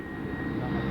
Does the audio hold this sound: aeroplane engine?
yes